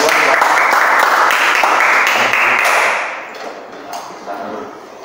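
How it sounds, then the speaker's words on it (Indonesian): Classmates in a Catholic religious education class clap for a two-student group's answer, a loud burst of close hand claps that fades after about three seconds into faint scattered taps and room noise. "kita berikan tepuk tangan yang meriah untuk kedua"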